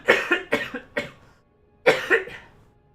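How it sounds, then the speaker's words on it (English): A man coughs in a quick fit: a cluster of four sharp, close coughs, a pause, then two more hoarse coughs, loud and dry with nothing else over them. "I'm starting to get a bit of a coughing fit right now"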